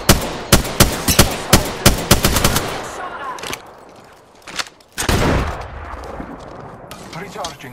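Weapon fire in the shooter game Bloodhound: a rapid series of loud, close, sharp shots in quick rhythm, then a pause with a few scattered bursts and a final louder blast followed by lingering rumble.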